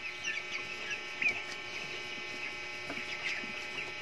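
A chicken clucks softly in short calls amid a constant electrical hum from a penned area, the bird sounding moderately near but fairly faint.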